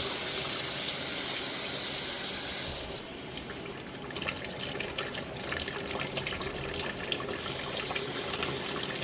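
Water pours steadily through a Miltoniopsis orchid pot, a continuous splashing gush that shifts and thins partway through as the stream moves around the pot, with no talking.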